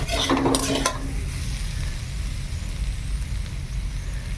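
Boiled potatoes frying in a pan with a steady low sizzle, a brief clatter of utensil against the pan at the start, then continuous frying alone.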